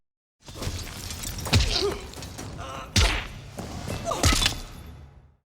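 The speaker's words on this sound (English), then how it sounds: "this is the first of two shots where someone gets thrown at a wall" A person is slammed against a wall in a 1990s action film scene, with several heavy thuds and crashing impacts landing amid a busy, loud mix of movement and effects.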